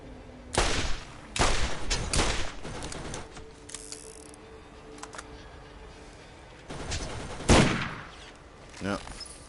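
Turret gunfire in the video game Borderlands rattles out in loud, repeated bursts, several sharp volleys separated by quieter gaps with mechanical game sounds in between.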